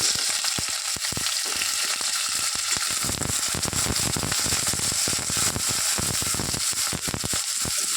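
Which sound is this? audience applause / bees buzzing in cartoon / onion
onion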